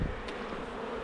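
Honeybees at an opened hive give off a brief, constant buzzing hum, the close swarm drone holding level with no other sound.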